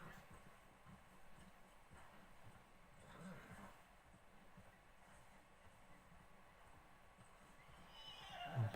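A horse in Red Dead Redemption 2 whinnies and its hooves clop steadily in a continuous game soundscape, with a louder burst near the end.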